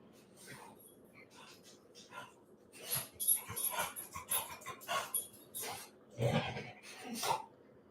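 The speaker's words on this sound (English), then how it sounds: "This dog is being crazy." A dog whimpers, whines and snuffles excitedly indoors, bursts of high yelps and breathy grunts coming close and rising in intensity, with a voice briefly heard in the background.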